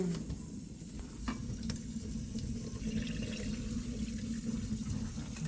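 Water pours into a large vessel as a steady, continuous rushing splash, fairly close and unbroken, with no talking.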